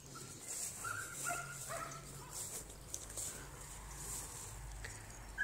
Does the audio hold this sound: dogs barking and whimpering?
yes